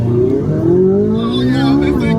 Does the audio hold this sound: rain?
no